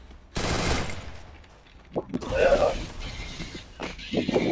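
Gunfire from the video game Free Fire in a one-on-one match, bursts of shots and mechanical clatter coming in uneven clusters, with a voice talking over parts of it.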